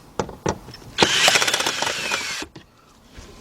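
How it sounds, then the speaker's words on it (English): A cordless drill whirs for about a second and a half, driving Phillips screws under a 2010 BMW 528i, with a couple of sharp clicks and knocks before it and quieter handling noise after. "So I'm gonna grab our cordless drill."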